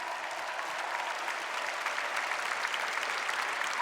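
A crowd claps continuously, a dense and even wash of applause that neither builds nor fades.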